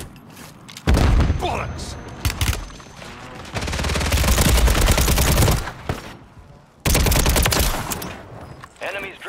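Loud bursts of automatic gunfire with booming impacts in the video game Warzone 3, coming in several long volleys separated by short pauses, while a player swears over the shooting.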